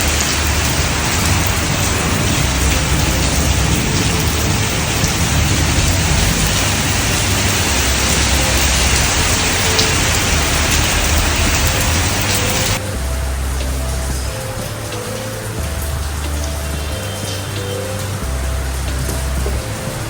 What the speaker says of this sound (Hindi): बारिश टूट पड़ी भाई, बारिश टूट पड़ी